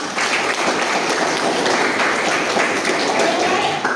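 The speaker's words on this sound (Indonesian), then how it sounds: "Tepuk tangan lagi." Steady classroom applause from students during a mathematics lesson, dense and even clapping that fills the whole stretch at a close, fairly loud level.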